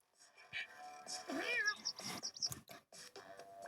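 Several high, cartoonish cat meows in the video game Toca Boca repeat in quick succession, clear and close, over a faint layer of synthetic game-like sounds.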